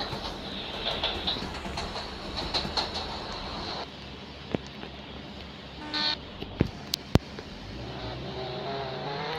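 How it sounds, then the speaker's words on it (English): A train rumbles along in a Jailbreak video game, a steady mechanical clatter with a few sharp clanks and bird calls, no talking. "Oh, the train, I like it."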